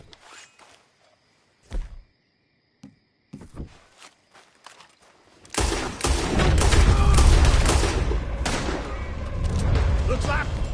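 Gunfire in Red Dead Redemption 2 during a shootout: a few scattered footsteps and thuds, then a loud, dense, sustained volley of shots that keeps going to the end.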